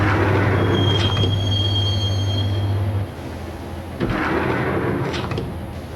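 Train ride inside the Max Payne video game: a loud rumbling railcar with screeching wheel squeal and clattering bursts, a steady low drone cutting out partway, then the rolling noise resuming.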